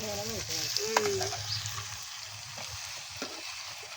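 A curry of brinjal and dried fish fries in hot oil in a pan, giving a continuous soft hiss and sizzle that stays even throughout, with a few faint tonal chirps early on.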